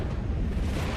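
A Firing Phoenix skill detonating in the Honkai video game, a dense, loud roaring blast with a sustained low rumble filling the whole moment without a break.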